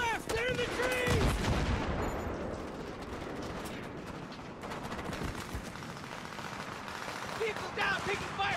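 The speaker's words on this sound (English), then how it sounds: "People down, taking fire from the left!" Heavy gunfire in Battlefield 3 during a firefight: dense, continuous volleys of rifle and machine-gun shots with booming impacts, loud and sustained throughout.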